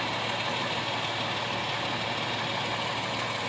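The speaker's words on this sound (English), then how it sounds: "You got a little bit of rattle by the catalytic converter." Idling car engine with a loose catalytic converter heat shield, giving a steady, close, even rattling hum that runs unbroken with no talking.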